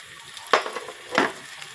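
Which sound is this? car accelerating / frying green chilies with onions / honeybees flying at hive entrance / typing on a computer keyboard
frying green chilies with onions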